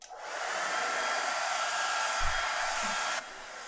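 A hair dryer blows steadily on a taped watercolour painting, a loud close broadband whoosh running for about three seconds before cutting off abruptly.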